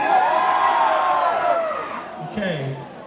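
Screams and whoops from a concert audience at a gig in Łowicz, loud and continuous, easing off, then a brief renewed rise with a voice riding on top.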